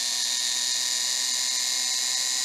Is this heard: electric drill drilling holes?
yes